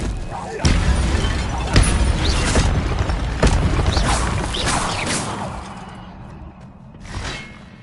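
Incendio fire spells in Hogwarts Legacy burst out one after another, several sharp whooshing blasts with crackling tails over game ambience, with a voice calling out now and then.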